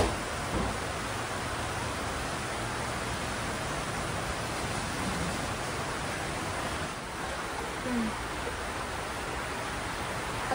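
Heavy rain pours during typhoon flooding in a continuous loud, dense hiss that holds steady throughout, with no voices.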